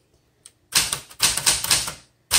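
Keys clack on a 1974 Smith Corona Classic 12 manual typewriter, a close, crisp burst of several rapid strikes after a couple of light taps, with one final strike after a short pause.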